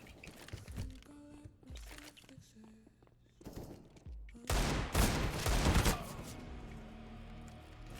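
Desert Eagle gunshots in a video game deathmatch, with scattered shots over the first seconds and a dense, loud burst of gunfire and impacts in the middle, set against game ambience and footstep-like crunches.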